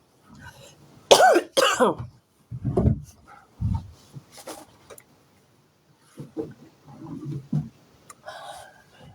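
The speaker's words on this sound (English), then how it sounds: "if I happen to cough like this" A few harsh coughs and throat clearing sounds come in short bursts, close up, separated by quiet pauses.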